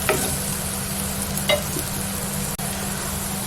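Bitter gourd frying in a pan with turmeric powder for a curd curry, a low steady sizzle with a couple of faint stirring scrapes and one brief click, no one speaking.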